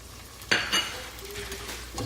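Carrots and shrimp stirred into cauliflower rice in a pan, with a soft sizzle and a couple of utensil scrapes and clinks near the start, then a quieter steady frying hiss.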